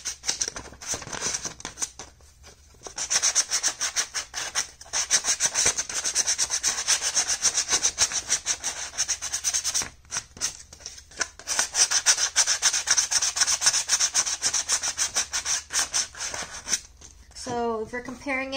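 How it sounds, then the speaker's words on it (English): Sanding the edges of a handmade armor plate: steady, rhythmic scratchy rubbing strokes in long close bursts with brief pauses, and a short voice near the end. "make sure all of your edges are sanded down, smooth to a smooth edge"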